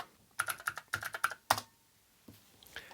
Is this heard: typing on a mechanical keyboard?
yes